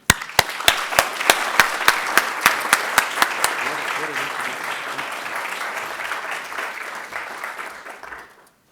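Audience applause welcoming a guest speaker at a literary conversation event, opening with a few loud sharp claps and then swelling into sustained, steady clapping that fades out near the end.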